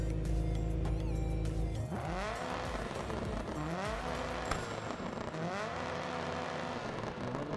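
A car in a rally racing video game played with a homemade Arduino sequential shifter: an engine revving and climbing in pitch through several quick gear changes, loud and continuous, with tire and track noise underneath.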